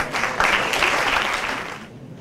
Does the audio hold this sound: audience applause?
yes